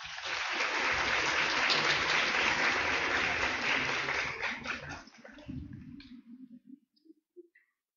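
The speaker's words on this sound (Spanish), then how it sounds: "Un aplauso, por favor." An audience applauds at a cultural festival event, a dense, fairly faint wash of clapping for about five seconds that thins into a few scattered claps and fades out.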